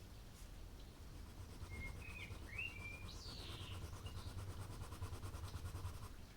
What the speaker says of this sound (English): we have a blackbird in the garden. It's singing right now.